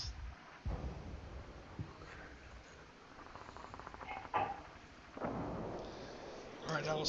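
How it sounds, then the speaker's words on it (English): Artillery barrage explosions in a Dien Bien Phu 1954 war game, a series of muffled thuds and bursts at irregular intervals, some close and others distant, under rumbling battle noise. "I'm gonna call in my last heavy barrages."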